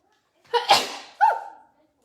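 A single close sneeze, with a sharp inhale-burst and a voiced trailing release, in an otherwise quiet kitchen.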